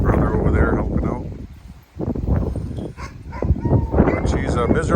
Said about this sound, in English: Just checking out the dogs.